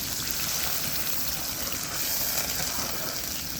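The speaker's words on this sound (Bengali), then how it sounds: "এখন পানি দিয়ে দেবো।" Water is poured into a cooking pot of fried onions with whole cumin, cardamom and cinnamon, a continuous rushing splash that holds an even, fairly loud level throughout, close by with no speech.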